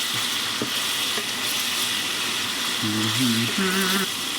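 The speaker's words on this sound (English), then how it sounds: "Sear it all around. Sear it all day." Beef sirloin bites sear in a hot pan, a steady soft sizzle running throughout, with a few light clicks and some brief tonal scraping or clinking near the end.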